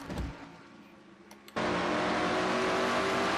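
Race cars roar around the track in a stock-car racing video game at the Food City 500, engine drone swelling abruptly into a loud sustained on-board whine.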